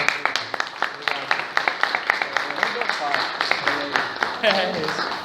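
A small audience claps for two guests on a Portuguese-language international relations podcast, sparse individual claps in a loose irregular rhythm, fairly near, with voices murmuring underneath.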